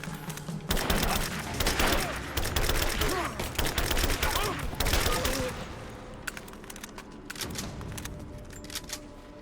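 Sniper fire and rapid bursts of gunfire from the video game Rise of the Tomb Raider clatter loudly for several seconds, then thin out to a quieter stretch with scattered distant shots.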